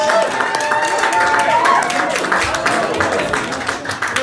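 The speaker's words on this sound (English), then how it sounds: "Massive round of applause" Comedy club audience at the Kings Loft clapping and cheering to welcome comedian Jack Bartlett, a loud, sustained burst of applause close by, with excited voices and whoops mixed in before it tapers.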